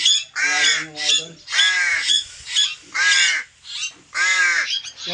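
Young pet crows, not yet able to fly well, give repeated loud, harsh begging caws in quick bursts while being hand-fed close by, with brief pauses between calls.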